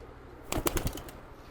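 A quick burst of wing flaps from a pigeon taking off, several rapid beats close by, then fading to quiet.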